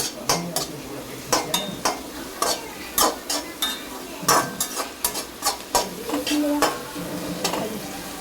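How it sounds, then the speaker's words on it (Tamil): Spatula stirring fried rice with curry leaves in a hot pan: repeated sharp scraping and clinking strokes against the metal over a steady sizzle, close and fairly loud, with no voices. "அடுத்து கருவேப்பிலை நல்லா மிக்ஸ் பண்ணணும், கிண்டிக்கணும்."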